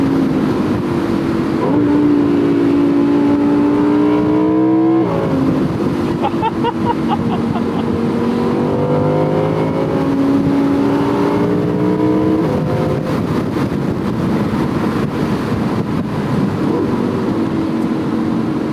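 A 2018 Audi R8 V10 Plus Spyder's engine drones loudly while driving, its pitch rising and falling in repeated sweeps as it revs through the gears under steady road and wind noise.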